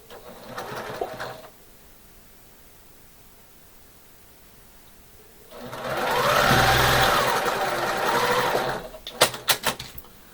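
A sewing machine joins quilt blocks in a steady mechanical whir, with a short burst at the start and a longer run in the middle, followed by a few sharp clicks and clunks.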